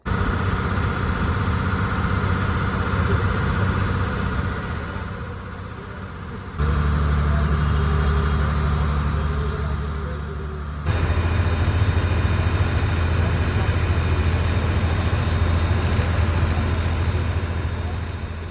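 A passenger boat engine drones low and steady on a river in light rain, shifting in tone partway through and growing louder toward the end.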